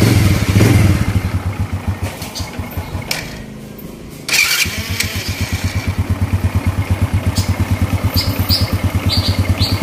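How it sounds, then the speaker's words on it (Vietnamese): Honda Wave motorcycle with a 110 engine being kick-started, a clattering rev that cuts out briefly, then catches and settles into a close, steady, rapidly pulsing idle. "Mở máy cho anh em nghe chú máy nha"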